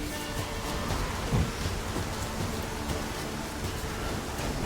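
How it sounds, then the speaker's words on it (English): A thunderstorm in The Witcher 3 sends heavy rain hissing steadily, with a low rumble of thunder swelling briefly near the middle, and no voices over it. "The storm, damn it."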